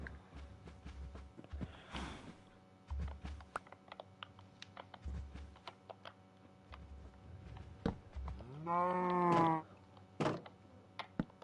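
A single drawn-out Minecraft cow moo rises and falls near the end, over a background of rapid keyboard and mouse clicking.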